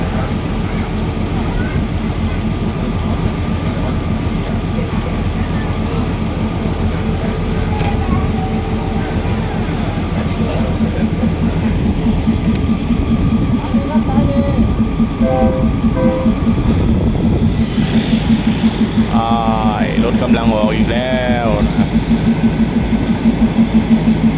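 A train rumbles at Ban Laem railway station in Thailand, a low steady drone with rising squeals and tones late on, and people talking faintly in the background.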